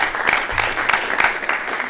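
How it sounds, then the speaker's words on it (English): An audience gives a speaker a warm round of applause, a dense, continuous roar of many hands clapping with a few sharper claps standing out, fairly loud throughout. "let's give Doug a warm round of applause"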